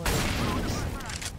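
A grenade blasts in a multiplayer shooter game, a loud broadband boom with rumbling decay and crackle lasting over a second, while a player talks faintly underneath.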